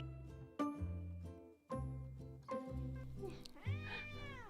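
Several drawn-out cat meows rise and fall in sequence, fairly close and clear, each one a harmonic wail that ends with a higher, bending cry.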